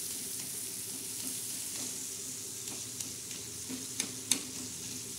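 Green chillies and prawns roast in a pan until deep red for a thecha chutney. A low, steady sizzle continues, broken by occasional sharp spatula clicks that grow slightly more frequent toward the end.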